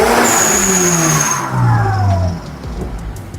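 A Toyota GT86 fitted with a new aftermarket exhaust revs loudly nearby, its engine note swelling and then falling away as the throttle is released, with no voices.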